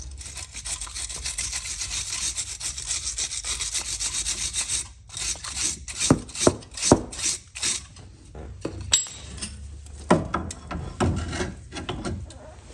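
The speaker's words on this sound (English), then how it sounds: "Clean up the caliper." A VW Golf MK7 front brake caliper is scrubbed clean with a continuous rasping rub at first, then rhythmic, uneven back-and-forth brush strokes, close and fairly loud.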